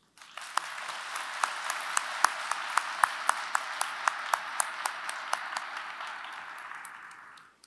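An audience at a university commencement ceremony applauds steadily for several seconds, a dense patter of clapping with a few sharper claps standing out, fading away at the end.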